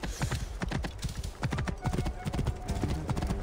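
Horses in a riding convoy on a trade route in Assassin's Creed Origins clip-clop steadily, a dense, close rhythm of hoofbeats continuing throughout without pause.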